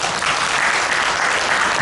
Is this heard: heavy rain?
no